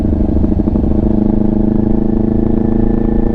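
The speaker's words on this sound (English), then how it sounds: "Just engine braking." A motorcycle engine-brakes, then burbles in a steady, throbbing idle close by, with a low rhythmic exhaust pulse and no voices.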